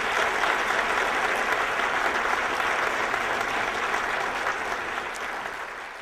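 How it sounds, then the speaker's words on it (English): Sustained audience applause at a speech event honoring donors, a dense steady round of clapping from a large crowd that tapers slightly toward the end. "So if we could have a big round of applause for them."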